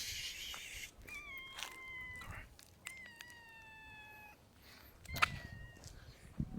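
A black and white cat meows outdoors, a few faint, drawn-out calls in a row with short pauses, heard against quiet background noise and occasional rustling.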